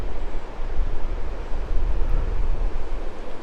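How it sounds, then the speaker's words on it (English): Rapids on the Cheticamp River in Cape Breton, rushing around a curve near the Salmon Pools: a loud, continuous roar of churning water with steady turbulent hiss and some wind on the microphone, without speech. "This is the rapid where the river's making a curve."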